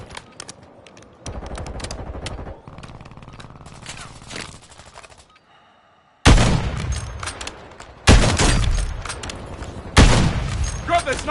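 Bursts of gunfire in the battle royale game Warzone, loud sharp volleys arriving in several separate waves with brief quieter gaps and a near-silent pause between them.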